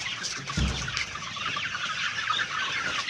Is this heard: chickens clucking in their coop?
yes